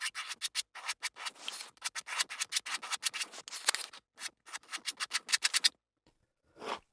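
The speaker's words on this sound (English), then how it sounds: "Let's just scrape it off and use it over on this side." A palette knife scrapes thick oil paint off a canvas in rapid, close, dry rasping strokes, dozens in a row, before stopping and giving one last faint scrape.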